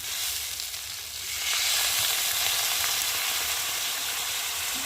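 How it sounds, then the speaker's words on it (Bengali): Masala frying in a pan for a small chuno fish curry with aubergine and potato, a steady close sizzle that swells louder after the first second as it is stirred, with no one talking. "এখন আমি একটু ভালো করে নেড়ে ছেড়ে আর জল দিয়ে দেবো"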